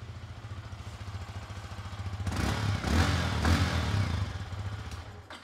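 A 2024 Yamaha R15M motorcycle engine runs steadily close by, a smooth, quiet low hum with no talk over it.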